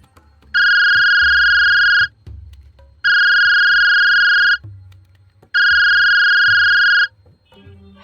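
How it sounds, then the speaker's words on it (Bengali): A telephone ringback tone sounds on the other end of a line, three long steady electronic rings separated by pauses, loud and clear, set in a suspense audio drama. "ওপাশে রিং হচ্ছে।"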